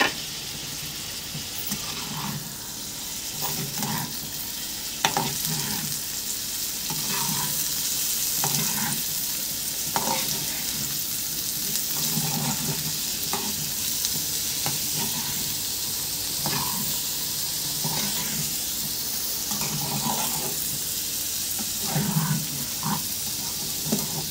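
Tomatoes and onions fry in a pan with a steady sizzle under rhythmic, repeated stirring strokes every second or two, close and moderately loud, with no one talking.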